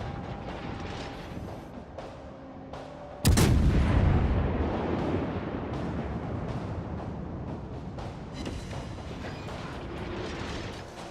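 A warship's guns fire in a naval battle video game, a single loud booming blast that rolls into a long rumbling tail over steady background game noise.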